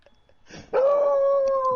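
A dog in the room lets out a loud, sustained howl that starts abruptly and holds a steady, wavering pitch for about a second, preceded by a brief whimpering lead-in.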